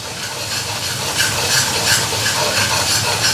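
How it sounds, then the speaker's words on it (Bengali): A pressure cooker hisses steam in a loud, steady, close rush with slight pulsing, and nothing else is heard over it. "প্রেশার কুকারে সিদ্ধ দিয়েছিলাম"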